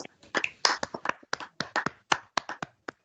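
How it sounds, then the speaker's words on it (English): A small audience at a Sickle Cell Society annual general meeting claps for a poetry award winner, with sparse, uneven claps from only a few people, fairly close and with gaps between them. "So a round of applause for Ariana again"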